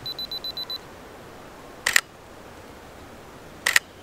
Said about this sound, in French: Hop, il reprend une photo.